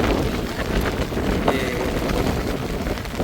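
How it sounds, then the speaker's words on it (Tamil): Strong wind gusting by the sea during rain in Jaffna, a steady broadband roar buffeting the microphone throughout, with no voices. "அதே நேரம் காற்று தான் வந்து பலமாக அடித்து கொண்டிருக்கு."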